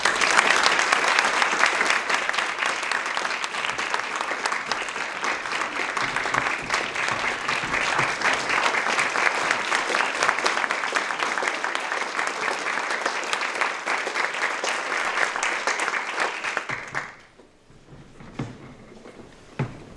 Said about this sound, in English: Can we give our brave young people another round of applause?